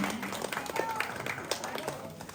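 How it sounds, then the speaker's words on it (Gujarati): An audience at a temple festival prize-giving applauds an honoured student, a spread of clapping under a speaker's voice. "ખૂબ ખૂબ તાળીઓથી આપણે સ્નેહાબેનને વધાવીએ."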